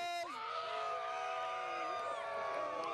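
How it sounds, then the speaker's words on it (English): A crowd at a Razorbacks rally cheers and screams for finalist Lewis, many voices whooping and yelling together in a sustained, loud roar that holds from start to finish. "The crowd is going to cheer."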